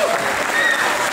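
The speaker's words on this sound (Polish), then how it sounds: "I wielkie, wielkie brawa." Loud, dense applause from an audience at a Latin ballroom dance competition final, filling the room steadily right after a dance ends, with no gaps.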